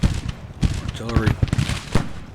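Cannon fire in Grand Tactician: The Civil War, a strategy game battle, comes as several sharp booming reports spread irregularly over a few seconds, mixed with a faint voice in the background.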